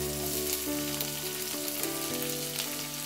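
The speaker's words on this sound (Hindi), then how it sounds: "अब इसमें 2 से 3 बड़े चम्मच ऑयल ऐड करेंगे। थोड़ा सा इसमें ऑयल ज़्यादा ऐड करेंगे। अब इसी के साथ इसमें ऐड करेंगे अनियन" Onion fries in plenty of oil in a kadai for street-style chowmein, making a dense, steady sizzle close up with a faint tonal hum underneath.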